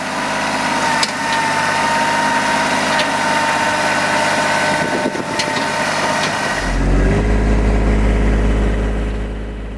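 A tractor runs steadily with a box blade scraping and scouring dirt to cut a garden terrace, its engine droning near and loud throughout, with a deeper, heavier rumble building toward the end.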